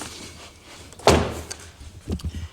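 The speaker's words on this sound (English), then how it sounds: "If I close the door again," A Lexus LS400 door swings shut with a single solid thunk partway through, followed by a few softer knocks and rattles from the body panels.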